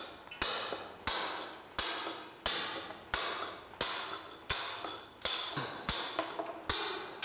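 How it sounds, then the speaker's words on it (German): A hammer drives a point chisel to rough-dress the boss off a stone block, giving about a dozen sharp, ringing metallic strikes in a steady rhythm, each decaying quickly, close and alone. "Als nächstes wird mit dem Spitzeisen der sogenannte Bossen abgespitzt, abgearbeitet."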